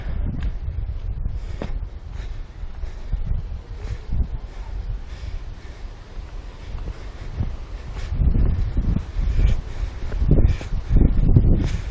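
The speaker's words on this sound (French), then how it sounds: "il fait chaud mais le vent est frais, donc ça il y a pas mal de vent" Steady wind buffets the microphone at a hilltop viewpoint in Griffith Park, Los Angeles, with rumbling gusts that swell and strengthen toward the end and no other sounds standing out.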